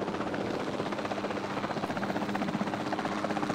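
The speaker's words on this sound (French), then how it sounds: "On va reprendre le contrôle de l'hélico." A helicopter in the dinosaur-park game Jurassic World Evolution 2 gives a steady, continuous rotor drone with rapid rhythmic chopping, close and fairly loud, heard alone throughout.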